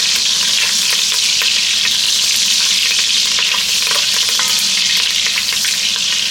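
Butter melts in a Dutch oven with a loud, continuous hissing sizzle and crackle, steady throughout and close by.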